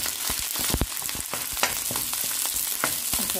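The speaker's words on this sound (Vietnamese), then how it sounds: "Mình sẽ xào cơm." Cold cooked rice is stir-fried in a hot pan for quick fried rice with instant noodles, giving a steady sizzle broken by repeated scraping and tossing strokes, close and alone.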